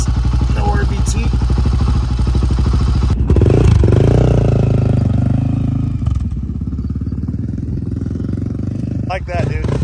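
A rebuilt Honda 400EX ATV engine with a 400cc big bore kit runs close by in a loud, rough, clattering idle, briefly revving near the middle while people talk over it.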